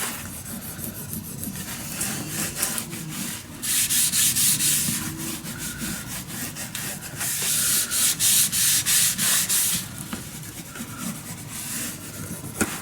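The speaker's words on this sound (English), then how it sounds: "But burnish it down, guys, burnish it down." Paper on a mini album spine being burnished down with a tool, making a loud, close, dry scraping rub in rhythmic back-and-forth strokes that swell and fade in waves, with no voice.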